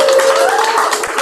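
Applause from the audience at a live poetry event in a cafe, loud and continuous, with a steady tone running through the clapping and a few louder individual claps near the end.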